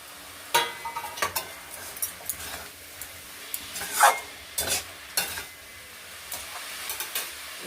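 Pre-fried potatoes and green chilies tipped into a hot pan give sharp bursts of sizzling and scraping stirs, repeated irregularly over a quiet, crackling background.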